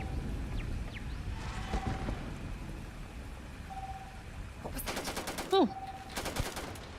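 Automatic gunfire with heavy recoil in the Starfield video game, two dense bursts of rapid shots at mid-distance over a low ambient game bed, with a brief exclamation from a player.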